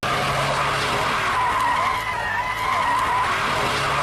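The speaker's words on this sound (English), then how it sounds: "Let me do a quick first gear pull." A 2000 Honda Accord EX pulls hard in first gear, engine note climbing steadily under a loud, continuous roar with some tire noise, close and sustained for several seconds.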